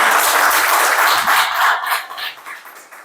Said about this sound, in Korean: 발표하느라 고생해주신 한승주 대표님께 다시 한번 큰 박수 부탁드리겠습니다.